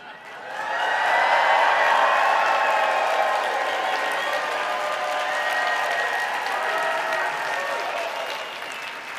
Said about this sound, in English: Would you guys do me a favor and just act like you're cheering?